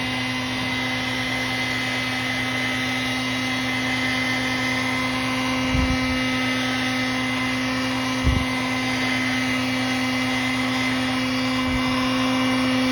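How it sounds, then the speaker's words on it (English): A heat gun popping bubbles on a hand-painted 4-inch swimbait runs continuously with a loud, steady whirring hum, broken by a few faint low thumps. "I just take my heat gun"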